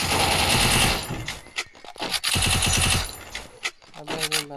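Rapid automatic gunfire from the Free Fire battle royale game crackles in dense bursts, broken by short gaps and single shots, loud throughout with no talk over it.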